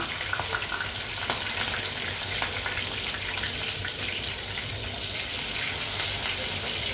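Food sizzles and crackles in a pan over low heat while cooking a korma, a steady, close frying hiss that runs unbroken throughout with no talking.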